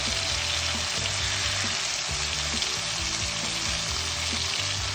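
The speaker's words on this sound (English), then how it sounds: "you just need to fry it 1 minute on each side" Hilsa fish sizzling and crackling in a pan of hot oil, a steady close, loud frying hiss with faint bubbling that runs unbroken throughout, with no talking.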